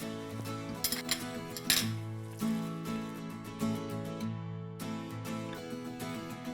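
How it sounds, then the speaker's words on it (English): Gram flour being stirred into a mixture in a bowl, with a utensil clinking and scraping against the bowl in a steady, close-up run of small knocks. "I'm going to add about 1 tablespoon of gram flour and then give it a good mix."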